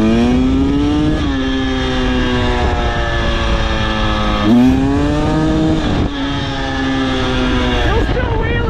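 A 2023 KTM 300XC dirt bike being ridden in third gear, its loud, close engine droning in a steady tone with brief dips and climbs as the throttle changes.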